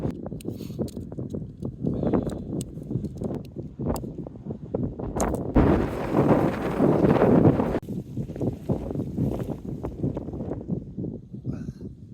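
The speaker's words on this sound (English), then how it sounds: "Yeah, it's suitably windy up here." Strong wind on a hilltop near Whiteley Wind Farm above Glasgow, heard as loud gusting rumble and microphone buffeting, with one especially heavy gust in the middle.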